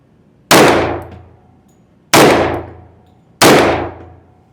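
Three sharp, loud reports from an unsuppressed FN 510 pistol firing 200 grain rounds, evenly spaced about a second and a half apart, each ringing out briefly before the next.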